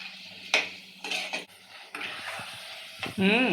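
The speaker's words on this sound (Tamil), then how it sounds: "தக்காளி போட்டுக்கிறேன் சரி ஓகே நல்லா வதக்குவோம்" Tomatoes being sautéed in a pan for fish curry, with a spoon clattering and scraping against the pan over a soft sizzle, close and intermittent.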